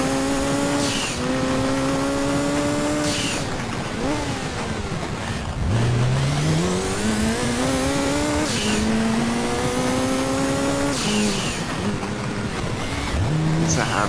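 A car engine in the Gran Turismo 2 racing game revs and downshifts on the Pikes Peak hill climb, loud and continuous, with repeated rising pitch sweeps and sudden drops between gears and some tire noise.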